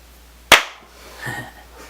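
A single sharp hand clap marks the start of an interview recording, loud and close, followed by a quick decay and faint room noise.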